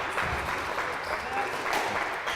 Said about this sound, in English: You might hear some applause in the background.